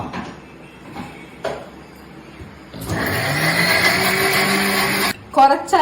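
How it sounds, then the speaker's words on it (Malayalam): A mixer grinder whirs to life grinding ginger, green chili and curry leaves, a loud steady motor whine for a couple of seconds before cutting off; someone talks in the quieter stretch before it starts, and a few clatters follow. "ഇഞ്ചി രണ്ട് കഷ്ണം പച്ചമുളക് പച്ചമുളക് കറിവേപ്പില ഇനി ഇതൊന്ന് അരച്ചെടുക്കണം"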